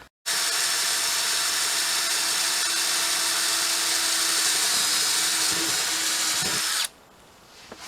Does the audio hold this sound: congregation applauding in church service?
no